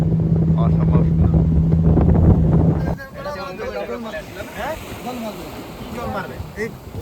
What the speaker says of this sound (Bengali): এই হচ্ছে বোট।